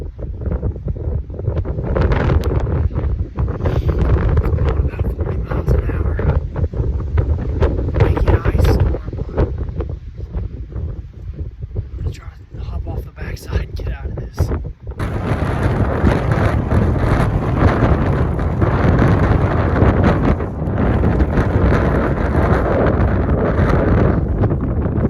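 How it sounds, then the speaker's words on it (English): Strong, roaring wind of 40-mile-an-hour gusts in a Wyoming ice storm buffets the microphone, loud and continuous, with a harsher burst of blowing that takes over halfway through. "Ice storm. It's blowing 40-mile-an-hour gusts"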